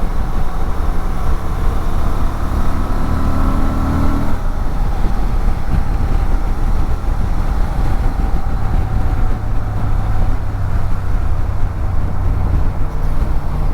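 2024 Honda Transalp 750 adventure motorcycle riding in sport mode, a steady loud engine drone under wind rush, with a higher tone that drops away midway as revs shift.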